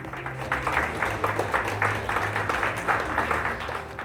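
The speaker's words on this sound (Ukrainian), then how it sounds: "Можна окремі оплески подарувати." Applause at a Ukrainian award ceremony for working dogs, honouring a handler and her Belgian Malinois, rises as a steady, moderately loud wash of clapping with a low hum underneath, running unbroken throughout.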